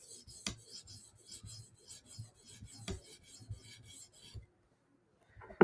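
A knife is stroked across a sharpening stone in a final pass to remove the burr, a quiet rhythmic series of short rasping strokes, each repeated evenly, close up and alone, ending in silence before a brief knock.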